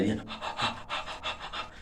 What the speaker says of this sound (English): Yeah, they are panting heavily. That means they need air.